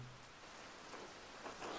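Steady rain pours in the Pentiment video game, a broad continuous hiss at moderate level with no talk, swelling slightly toward the end.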